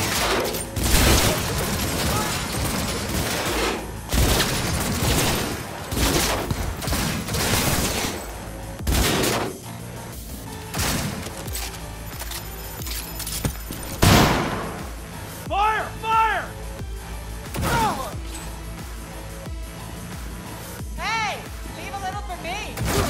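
A firefight in Cyberpunk 2077, with dense bursts of gunfire and sharp repeated shots from several weapons, loud and close, rising and falling across the scene, while voices shout over the shooting.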